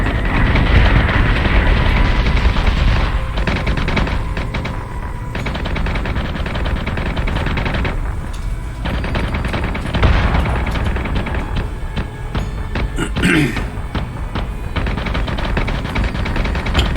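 Warship guns fire in Battlestar Galactica Deadlock space combat, rapid repeated bursts of heavy gunfire with booming impacts, loud and continuous with brief lulls, no talk over it.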